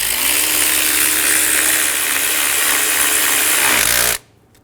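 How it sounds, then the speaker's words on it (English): A power tool snugs down the starter bolt on a 2011-2014 Hyundai Sonata in one loud, continuous whirring burst that stops abruptly. "Snug the bolt down."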